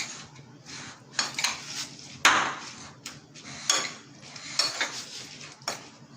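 Guava salad being stirred with lime juice in a bowl, a spoon clinking and scraping against the dish in irregular bursts of clatter, close and fairly quiet, with no talking.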